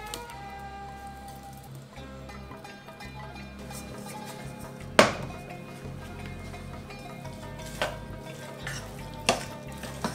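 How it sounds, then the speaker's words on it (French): Meat browning alongside onion in a pan over high heat: a low continuous sizzle with occasional clinks and knocks of a utensil against the pan, no talk. "Je fais également revenir ma viande en même temps que l'oignon."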